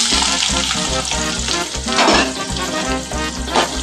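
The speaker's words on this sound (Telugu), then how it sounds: "కోసిన ఉల్లిగడ్డ ముక్కల్ని తాలింపులో వేసుకుంటున్నాను ఫ్రెండ్స్." Chopped onions dropped into hot oil for tempering, with cumin seeds already in the pan, sizzle loudly and steadily, a close crackling fry that swells as the pieces are stirred, with no talking.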